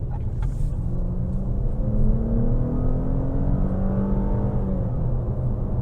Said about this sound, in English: I got higher up in the RPMs than I was expecting, but that's sport mode for you